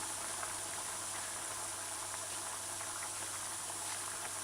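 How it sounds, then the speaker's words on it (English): Steak and vegetables stir-frying in a pot on a stove at medium heat give a steady, faint sizzle and bubbling hiss with no other sounds. "Just allow it to fry just stir in every 2 minutes"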